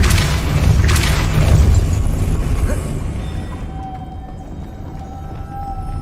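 In Hogwarts Legacy, a Depulso spell blast lands as a loud, deep boom with a rumbling low-end burst. The heavy impact rolls on for a couple of seconds, then fades into a quieter, ringing tail.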